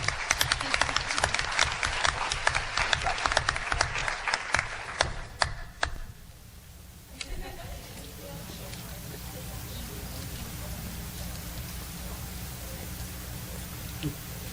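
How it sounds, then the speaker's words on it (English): An audience applauds at a live event, clapping that starts strong and dense, then thins out and fades after several seconds into low room noise. "So, round of applause for Maggie"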